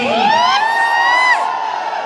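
A hall crowd welcomes a guest with loud cheering, whoops and shouts, high rising yells layered over a continuous roar from many voices, close and sustained throughout.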